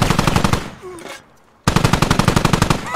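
Rapid automatic gunfire from the tactical shooter game Squad, loud and close in sustained bursts, broken by a short near-silent gap and a few faint voice sounds before the firing resumes at full intensity.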